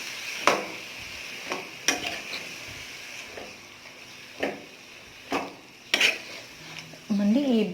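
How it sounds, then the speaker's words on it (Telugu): Ridge gourd and onions are stirred in a cooking pan, with a utensil scraping and clanking against the metal in several distinct strokes over a faint sizzle, close and moderately loud. "ఇప్పుడు బీరకాయ వేసేసుకున్నాం. ఇప్పుడు మొత్తం ఒకసారి కలియబెట్టుకుందాం."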